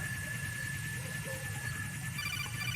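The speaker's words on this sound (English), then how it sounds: "Tem um drone ali, ó." A drone hovers in Metal Gear Solid 2, giving a steady mechanical engine-like hum with a thin whine on top, held constant and fairly close, with no talking.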